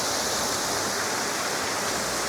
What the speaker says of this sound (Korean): 작은 폭포같이 조성을 해놨는데